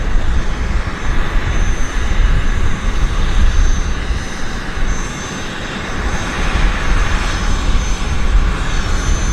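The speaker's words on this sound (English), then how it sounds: "I'm just kind of hoping we can get this this 787 departure in before the battery" A Boeing 787 airliner departs Vancouver airport, its engines producing a loud, steady broadband roar that holds for the whole stretch with only slight swells, and no voices over it.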